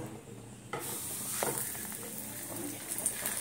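An onion paratha drops into hot oil in a saucepan, and a sudden loud sizzle bursts in and holds as a close, continuous frying hiss.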